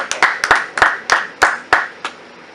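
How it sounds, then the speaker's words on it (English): Audience clapping for guest artist Picasso de Conscience: about eight crisp, close hand claps in a loose, steady rhythm, the last one fading softer, with no voices. "go ahead, clap it up for him"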